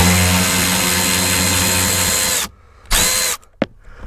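Power tool whirring steadily and loudly as it backs out a bolt during dashboard removal on a Mercedes CLK W209, running continuously for about two and a half seconds, then stopping with a couple of short follow-up bursts.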